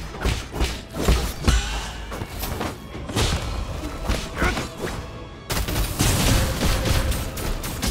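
Bombs exploding in the game Nine Sols, a rapid series of heavy thuds and sharp blasts in an uneven rhythm, close and loud, building into a denser barrage toward the end with no speech.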